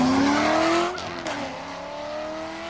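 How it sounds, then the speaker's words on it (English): A Tesla pulls away hard in a street race against a Corvette, a loud close whine and road roar sweeping upward then dropping off quickly as it passes into the distance. "That Tesla took the fuck off."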